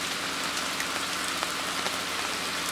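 Rain pours down at a carp fishing lake, a dense, even hiss of drops on surfaces that stays close and steady for a few seconds, with no voices.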